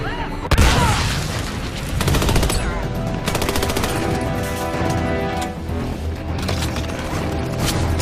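Sustained automatic gunfire from the video game Army of Two: The Devil's Cartel, with rapid bursts and booming impacts running continuously at high volume, overlaid by a music score.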